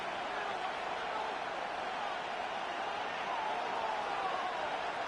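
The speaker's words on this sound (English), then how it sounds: "The Buffalo crowd being heard before third down" A continuous roar from a big stadium crowd in the football video game Madden 26, the Buffalo home crowd, steady and broad, holding at an even level throughout.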